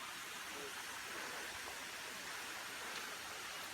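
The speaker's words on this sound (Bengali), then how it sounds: "এই ঝর্ণার শব্দ শুনেন" Waterfall on Chandranath hill heard as a faint, steady rush of falling water, distant and continuous with no other sounds standing out.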